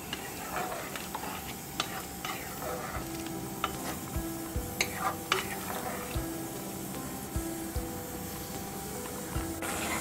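Chettinad vendakkai mandi, an okra gravy thickened with flour, simmers in a pot with a dense, continuous sizzling bubble and scattered ticks of stirring, steady and close throughout.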